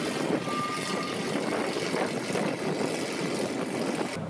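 Lamborghini Aventador engine running at a steady, loud, continuous drone with a broad roar, unbroken for the whole stretch and with no voices over it.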